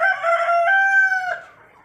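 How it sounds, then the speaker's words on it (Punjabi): A young rooster about three to four months old gives one loud, close crow lasting over a second, trailing off at the end with no other sound around it. "ਮੁਰਗਾ ਬਣ ਗਿਆ ਹੁਣ ਪੂਰਾ"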